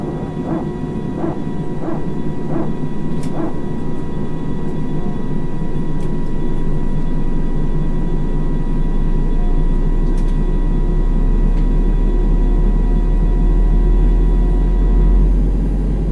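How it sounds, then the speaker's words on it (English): An Airbus A320 jet engine spools up in X-Plane 11, a steady whine and hum swelling into a deepening low roar that builds in loudness over many seconds, with a few soft clicks early on and no voices. "I love hearing all the engines start up and everything"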